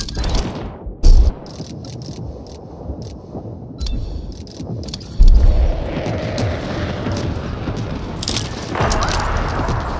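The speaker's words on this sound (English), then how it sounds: "Friendly airstrike incoming." Heavy booms from a friendly airstrike in the video game World War 3, two deep thuds landing among continuous crackling gunfire and battle noise.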